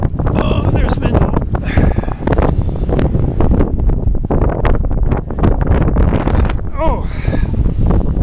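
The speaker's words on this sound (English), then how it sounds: "The wind's getting strong." Strong wind buffets the microphone at an outdoor street vigil in Montréal, making loud, continuous rumbling gusts that last throughout, with a voice exclaiming briefly.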